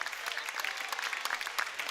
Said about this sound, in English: See the applause from the Justin Siena supporters that have made about a 5-minute drive south